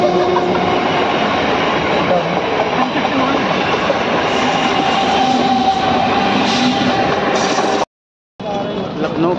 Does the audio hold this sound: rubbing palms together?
no